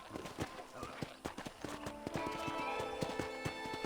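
Horse hooves clip-clop steadily on the ground in Red Dead Redemption, a riding horse nearby, with faint ambient tones underneath and a brief whinny mixed in.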